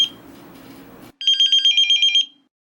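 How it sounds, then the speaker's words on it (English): An animated pager suddenly goes off with a rapid burst of high electronic beeps, about ten quick pulses in a row, loud and clean after a short stretch of muffled background, then abrupt silence. "suddenly my pager goes off."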